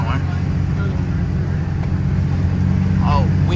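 A Cummins diesel truck crawls off-road near a creek, its low engine drone steady and close throughout, with faint voices talking over it.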